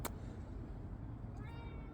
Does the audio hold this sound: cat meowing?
yes